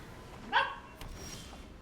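A single short bark from a dog named Shiro, fairly faint and set back in a quiet room, followed by a softer yip.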